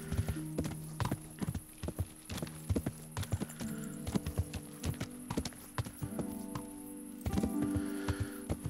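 A horse carrying its rider, Pebbles, in Kingdom Come: Deliverance, with hooves clip-clopping in a steady walking rhythm and crisp, close hoofbeats throughout. Scattered clatter sits over a low background tone.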